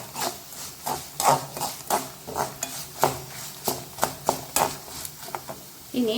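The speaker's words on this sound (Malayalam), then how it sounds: "ഇനി ഇതെല്ലാം ഒന്ന് നമുക്ക് നല്ലോണം ഫ്രൈ ചെയ്തെടുക്കാം" Garlic and mustard seeds fry in a pan while being stirred, giving a series of sharp scraping and clinking strokes at a steady rhythm over a soft background sizzle, close and moderately loud.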